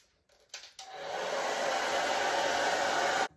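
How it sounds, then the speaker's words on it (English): A handheld hair dryer blows on a craft card for St. Patrick's Day, clicking on with a couple of brief starts before settling into a steady, close, loud airy whoosh that cuts off abruptly. "Can I have the dryer, please?"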